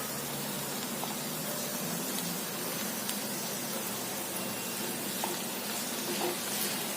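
Chopped spinach stems frying in hot oil with turmeric and asafoetida and being stirred, a dense, continuous loud sizzle with faint scraping of the spoon throughout.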